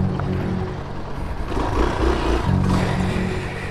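Motorcycle engine droning steadily at close range while riding along a road near a dam, the pitch shifting slightly as the bike slows to pull over, with no talking.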